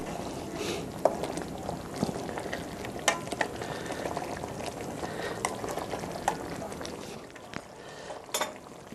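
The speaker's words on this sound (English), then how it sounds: "we'll now let that all boil to a simmer" Chicken massaman curry in a pot, heating toward a simmer, gives a steady bubbling, frying hiss with scattered clinks and stirring knocks throughout, moderately close, with a faint voice now and then.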